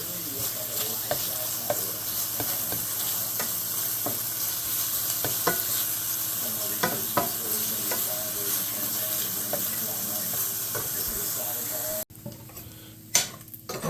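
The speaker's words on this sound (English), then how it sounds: "I'm going to put the bacon in the pan" Bacon fries in a pan on medium heat as the fat renders. A dense, continuous sizzle carries regular stirring scrapes, then drops suddenly to a quieter, sparser crackle near the end.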